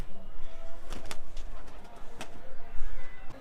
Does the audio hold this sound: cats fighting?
no